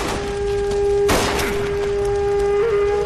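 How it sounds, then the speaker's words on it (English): A single sharp gunshot in L.A. Noire, cracking loud and close partway through over a steady humming background tone, then a short fading tail. "Oh, he shot him?"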